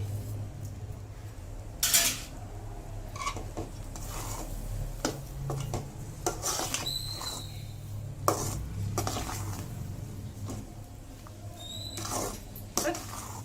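Rava kesari being stirred in a pan on the stove: close scraping and clinking of a spoon against metal in irregular strokes, with a low steady background hum and occasional faint voices.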